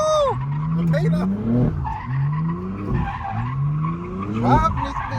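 Jeep Grand Cherokee Trackhawk tires squealing loudly as the SUV slides sideways, long wavering screeches that rise and fall repeatedly with engine noise underneath.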